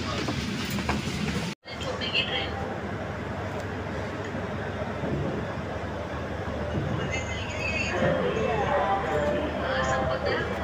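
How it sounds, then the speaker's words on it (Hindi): Steady rumble and rattling wheel clatter inside a moving double decker express train on the Jaipur to Delhi run, broken by one brief dropout early on, with faint voices in the carriage. "हमारी ट्रेन ने जयपुर से डिपार्चर ले लिया है।"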